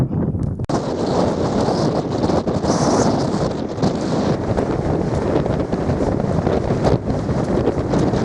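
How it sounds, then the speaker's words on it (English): Strong wind buffets the microphone on the exposed hilltop of Dunkery Beacon, a constant loud roar and rumble with no pauses. "Surprised how much windier it is on the top."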